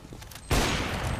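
Gunfire in the video game CS:GO, a sudden loud burst of shots cutting in partway through and sustained as a dense rattling blast to the end.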